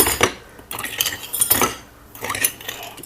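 Gold-plated silver pieces clink against one another as they are gathered out of an anti-tarnish soaking solution, in three separate bursts of bright, close metallic jingling with short quiet gaps between them.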